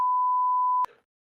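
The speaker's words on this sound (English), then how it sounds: "Beep the word" A steady pure-tone censor bleep runs for most of the time before cutting off abruptly, leaving a brief faint noisy tail, with no speech audible underneath.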